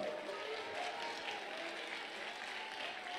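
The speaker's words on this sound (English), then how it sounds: "Give him another round of applause" Applause from the audience at a Seattle crowning ceremony, a soft, steady patter of clapping heard from a distance, faint and continuous for a few seconds with no voices over it.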